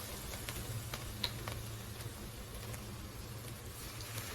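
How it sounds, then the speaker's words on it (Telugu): Chicken pieces for chicken fried rice fry in a pan with a steady, quiet sizzle and hiss, a few faint clicks and stirring touches scattered through. "ఇవి వేసేసి బాగా ఫ్రై చేసుకొని పీసెస్ అయితే పక్కన తీసుకోవాలి"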